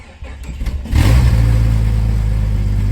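A Jeep Cherokee engine with no exhaust system cranks and fires up, then settles into a loud, raw, rumbling idle that continues steadily and close by.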